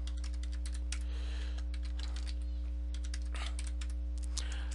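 Typing a password on a computer keyboard while setting up an FTP server on CentOS 7, rapid clusters of close key clicks over a steady electrical hum, no talk.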